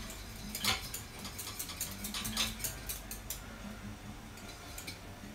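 Thick gravy is stirred in a pot on the stove, with a steady gritty scraping and repeated clinks of a utensil against metal over a constant background hiss, and no voices.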